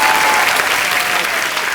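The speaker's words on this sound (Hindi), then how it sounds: "जोरदार तालियां एक बार हमारे मेहमानों के लिए।" A studio audience at The Kapil Sharma Show bursts into loud, dense applause, a steady wash of clapping that holds evenly from start to finish with no voices over it.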